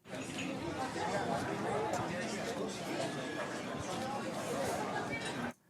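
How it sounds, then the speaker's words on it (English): A steady, continuous murmur of many overlapping voices fills a restaurant, diners chatting, with no single voice standing out. "or eating at a restaurant."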